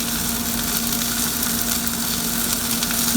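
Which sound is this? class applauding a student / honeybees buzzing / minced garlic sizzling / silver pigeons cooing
minced garlic sizzling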